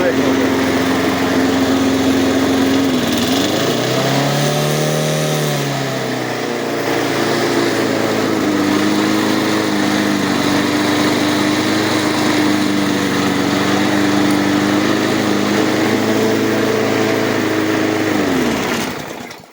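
A restored small petrol lawn mower runs continuously near a church grounds, its high engine whine steady and loud with a brief rev dip partway through, with no talking heard.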